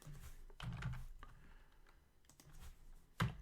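Quick keystrokes on a computer keyboard while entering a formula in a Google Sheets spreadsheet, a few soft taps and one sharper click near the end, close and fairly quiet with no talking.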